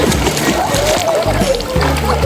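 Water splashing from someone swimming, a continuous churning slosh up close, loud and steady, with a voice speaking faintly underneath.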